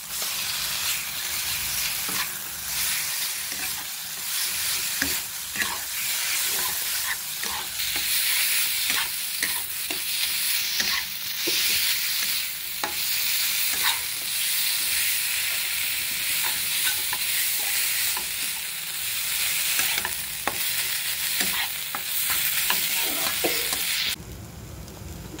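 Chicken filling with spices is stir-fried in a pan, a steady sizzle broken by repeated scraping and stirring strokes, close and loud, with no talking.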